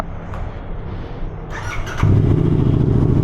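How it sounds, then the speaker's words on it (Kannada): A Royal Enfield Interceptor 650 motorcycle is started up close: a brief starter whir, then the engine catches and settles into a loud, steady, throbbing idle. "ಸೊ ಫಸ್ಟ್ ಗಾಡಿ ಆನ್ ಮಾಡೋಣ"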